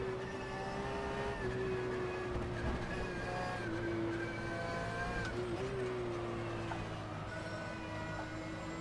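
A Porsche engine in the racing video game rFactor 2 revs high and steadily, a sustained tonal whine that climbs and drops slightly with gear changes, heard alone and fairly loud.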